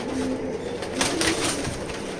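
Pigeons coo softly in a loft, a few low throaty calls close by, with a brief flutter of movement partway through and no talking.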